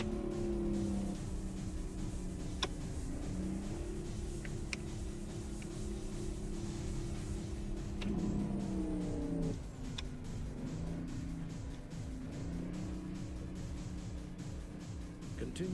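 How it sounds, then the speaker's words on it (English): A Detroit Diesel 6V71 six-cylinder truck engine in American Truck Simulator drones steadily at low pitch, with a gear change and a shift in revs partway through, while a navigation voice speaks now and then. "This is a 6B71, I think, Detroit diesel. So it's only 6-cylinder."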